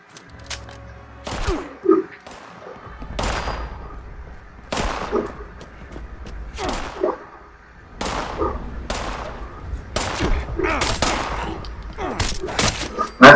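Gunshots in the video game Fallout 76 ring out in sharp, loud separate bursts at irregular intervals, several over the span, some in quick pairs, with game background noise between.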